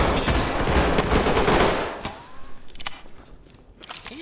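Dense automatic gunfire from the tactical shooter game Ready Or Not, loud rapid bursts for about two seconds, then scattered single shots and clatter at a lower level.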